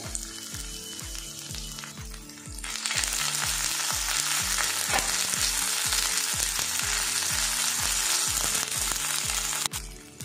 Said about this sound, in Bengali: এদিকে দেখুন আদা রসুন পেস্ট ভেজে নিয়েছি